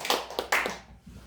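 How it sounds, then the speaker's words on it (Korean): A few scattered hand claps from a church congregation, close and soft, quickly thinning out and fading into a quiet room. "박수로 여러분 고맙습니다."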